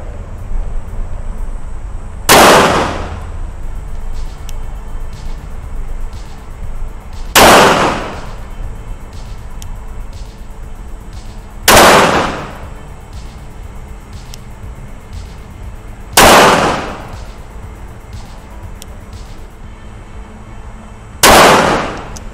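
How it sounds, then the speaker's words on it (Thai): Rock Island Armory STK 100 pistol fired at a shooting range: five loud, sharp shots spaced about four to five seconds apart, each with a short decaying tail, over a low background hum and no speech. "ยิงไปที่ตรงกลางตัวนะครับ"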